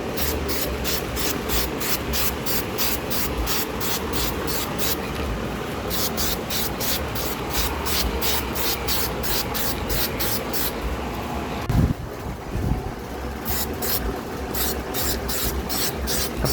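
Spray gun hissing out thin coats of water-based clear coat onto an RC plane, a continuous airy hiss broken by short pauses and repeated pulses, close up with no one talking.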